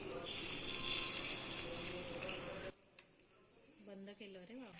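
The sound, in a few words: rava appe batter sizzling in a hot oiled appe pan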